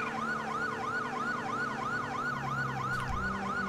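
A police car siren in the video game GTA V wails, cycling up and down in a fast, regular pattern, steady and moderately close, with a brief low thump near the end.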